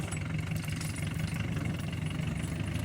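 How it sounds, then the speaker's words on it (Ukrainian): A tractor engine labors while pulling a Polish potato planter across a field during spring planting, a steady rumbling drone at a constant moderate level with no talk. "Важко пішов тракторець."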